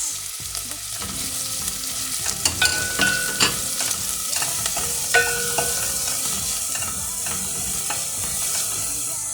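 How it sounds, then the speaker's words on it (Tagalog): Onions and garlic sauté in a pan as the base for a mung bean dish, giving a steady sizzle with scraping stir strokes and clinks throughout, without talk. "Hulog na rin natin mga kajuday ang ating sibuyas."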